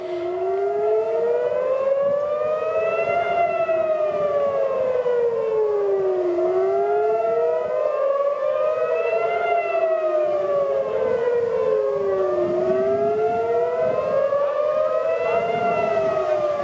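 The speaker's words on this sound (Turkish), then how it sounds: "Evet, Tel Aviv'de füzeler düşmeye başladı. Sirenler çalıyor." Civil defense air raid sirens wail across Tel Aviv during a missile attack, several overlapping tones rising and falling in slow sweeps, loud and continuous with no voices over them.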